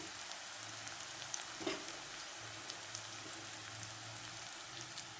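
Onion and fenugreek leaves fry in a pan with a soft, steady sizzle that holds at an even low level, broken by a few brief clinks near the middle.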